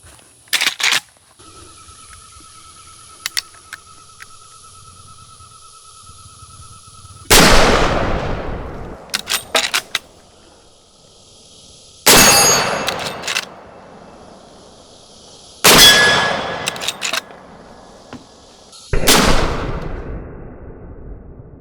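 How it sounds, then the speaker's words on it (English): Subsonic 45-70 rounds fired from a Marlin 1895 Trapper lever-action rifle: four loud, sharp outdoor shots several seconds apart, each followed by a short echoing tail, with quieter clatter between them. "subsonic rounds are indeed quite a bit quieter, much lower bang than the high-powered round"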